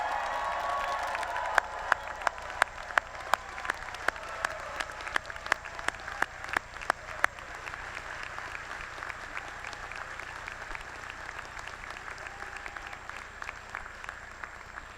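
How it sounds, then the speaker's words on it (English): A crowd applauds steadily at a doctoral commencement ceremony, dense clapping filling the space, with a few louder claps standing out early before it settles into an even roar. "our newest doctoral degree recipients deserve a little louder round of applause."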